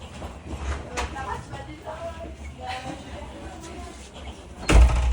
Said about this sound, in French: La deuxième porte a été fermée.